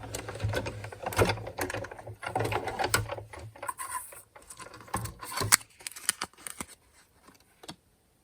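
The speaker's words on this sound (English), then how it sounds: "Let's just go over to my sewing machine." A sewing machine stitches a strip of fabric while small junk journal embellishments are made, giving bursts of close, rapid mechanical stitching with brief pauses and clicks between runs.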